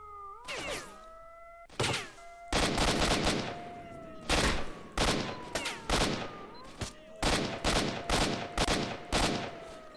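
Rapid bursts of gunfire in the video game S.T.A.L.K.E.R.: Shadow of Chernobyl crack repeatedly in quick clusters, loud and close, with whining tonal sounds and a voice briefly underneath.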